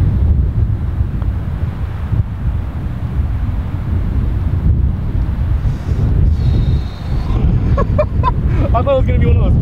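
Strong wind buffets the microphone in a constant low roar, with faint chirping and voices briefly audible near the end.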